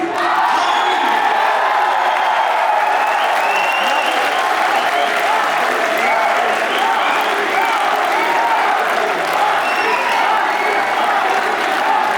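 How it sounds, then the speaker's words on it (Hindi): Sustained applause and cheering from a large mushaira audience at a 2024 Urdu poetry gathering, a dense steady roar of clapping with whoops lasting the whole stretch, loud and close throughout. "भरपूर तालियों में इस्तकबाल कीजिए"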